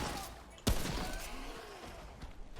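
A single sharp gunshot in the video game Remnant from the Ashes cracks loudly, followed by a fading tail and scattered faint shots under a quiet voice.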